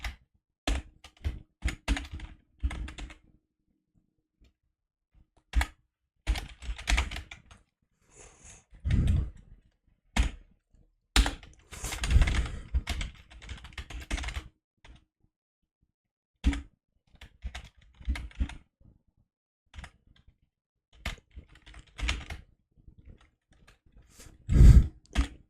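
Someone types code on a computer keyboard in irregular bursts of clicking keys, with pauses between flurries. The sound is close and moderately loud, and no one speaks.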